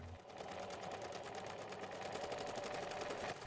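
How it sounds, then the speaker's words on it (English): A sewing machine stitches a drawstring pouch seam, a steady fast mechanical whirr with a fine regular needle rhythm, close and continuous, with no talk. "the presser foot can all work together to properly feed your project through the machine"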